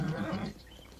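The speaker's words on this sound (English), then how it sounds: "This horse is coming on." A horse neighs once, a short whinny that breaks off after about half a second and leaves faint background hiss.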